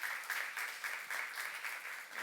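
A church congregation gives applause after a sermon, a steady, fairly soft wash of many hands clapping in a large room, continuous for a couple of seconds with no voices over it.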